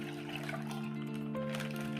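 Half a liter of cold milk pours steadily into a cooking vessel, a continuous faint liquid trickle over a low constant hum.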